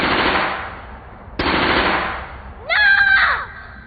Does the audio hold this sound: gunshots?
yes